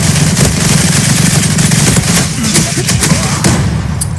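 A Tommy gun in the shooter Zula fires a long, loud, continuous automatic burst, rapid rattling shots over a heavy low-end rumble.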